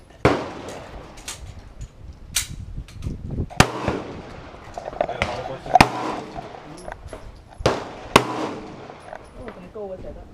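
Gunshots at an outdoor shooting range crack out in sharp, irregular bursts, some loud and close, others farther off, while people talk in the background.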